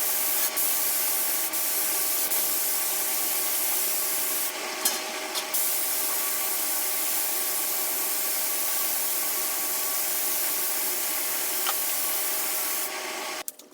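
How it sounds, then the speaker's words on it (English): A steady hiss of polyurethane finish being sprayed onto a wooden farmhouse table runs continuously, with a few brief louder bursts and faint clicks, no speech. "I can spray my coats of polyurethane"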